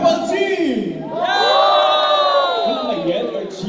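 A crowd at a Christmas gathering shouts and cheers for the purple team, a loud sustained group yell rising to a long, full roar that holds for a couple of seconds before trailing off.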